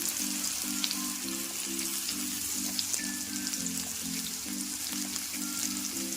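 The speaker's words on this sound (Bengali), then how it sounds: "কপিগুলোকে দিয়ে এবার ভালো করে ভেজে নেবো।" Cauliflower florets fry in hot oil with turmeric and salt, a constant crackling sizzle at close range, with a rhythmic pulsing hum running underneath.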